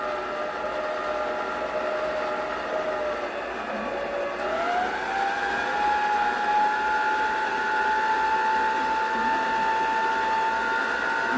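An electric mixer whirs steadily through strawberry cheesecake batter, its motor tone shifting upward midway as the speed is raised, then holding a constant loud hum.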